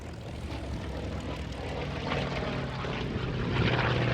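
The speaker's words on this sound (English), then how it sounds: "this particular aircraft built for the Iraqi Air Force." A 1953 propeller aircraft built for the Iraqi Air Force flies at an air show, its engine a rough, moderately distant drone that grows slightly louder toward the end.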